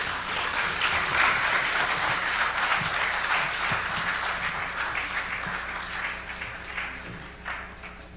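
Applause from the audience at a Caribbean broadcasting assembly opening ceremony fills the hall, dense and steady clapping near and loud that gradually tapers off toward the end.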